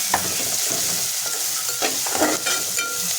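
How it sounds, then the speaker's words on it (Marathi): Goda masala and turmeric fry in hot oil for a tinda (dhemsa) bhaji, a steady close sizzle broken by scraping stirs of a spoon through the spices, with no voices. "ह्याच्यामध्ये आपण गोडा मसाला आणि हळद टाकून घ्यायचे आणि हे आपल्याला तेलावरती परतून घ्यायचे"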